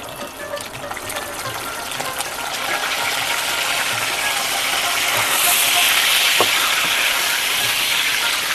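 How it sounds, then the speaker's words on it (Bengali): Fried potatoes tipped into a pan of nigella seed and green chilli tempering bring a loud, broad sizzle that swells and holds steady, with faint clatter underneath. "এবার এই ভেজে রাখা আলুগুলো এবার আমরা দিয়ে দেবো"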